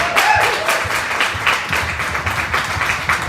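An audience at a ceilidh claps in applause, a dense, fairly close burst of many hands that pulses unevenly and carries on steadily for a few seconds.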